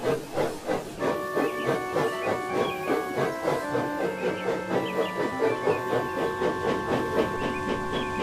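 A steam locomotive chuffs in a steady rhythmic beat, hissing steam throughout, with sustained whistle-like tones layered on top.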